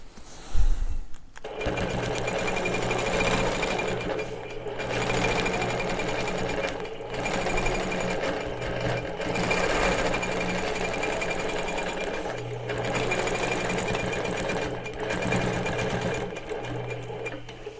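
An Innova longarm quilting machine stitches in the ditch with a steady, fast mechanical chatter that runs almost continuously, briefly pausing and shifting pace, close and alone without talking.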